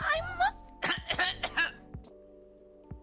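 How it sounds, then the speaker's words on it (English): A cough and throat clearing from a streamer, a few short bursts near the start with light chuckling, then quieter background tones and one faint click at the end. "This is a super cough."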